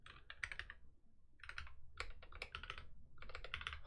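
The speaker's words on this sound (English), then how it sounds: "I've had this keyboard long enough now that you'd think that I would remember where the keystrokes are" Rapid, uneven bursts of clacking keys on a computer keyboard during software deployment work, coming in three clusters of quick keystrokes with brief pauses between, close and fairly quiet.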